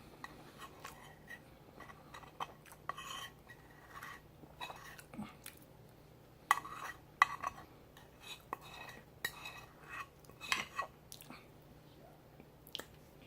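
A spoon scrapes leftover refried beans from a container in scattered, quiet clicks, scrapes and soft squishes that come irregularly over low background hum.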